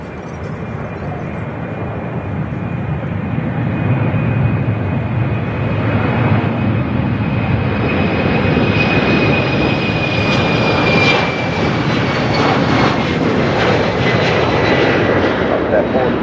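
A jet airliner starting its engines at London City Airport, a steady, loud rumble with a rising whine across the whole span, and radio talk heard over it.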